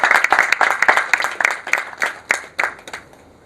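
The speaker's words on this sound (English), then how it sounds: "So we should have a round of applause for the Surat Police Department." A modest audience at a talk on women's entrepreneurship and internal security claps, with loose uneven hand claps from a small group that taper off within a few seconds.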